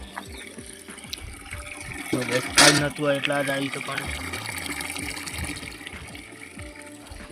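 Water pours steadily into a container with a continuous splashing hiss, while people talk close by over it, in a village home.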